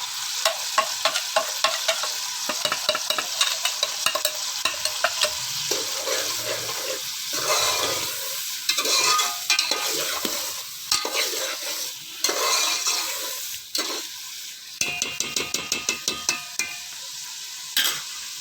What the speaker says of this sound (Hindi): अब इसको मसाले को थोड़ा सा भून के तैयार कर लेंगे